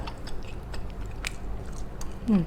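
Someone eating pork belly steamed in a pot with bamboo shoots, along with big mouthfuls of sticky rice: close, wet chewing with a few sharper crunchy bites, steady and without talking.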